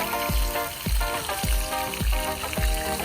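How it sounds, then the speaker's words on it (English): Lamb chops get worked together with salt, black pepper and cumin for a kazan kebab, a wet squelching mix with soft low thumps repeating about twice a second over a continuous hiss. "Now we're gonna mix it."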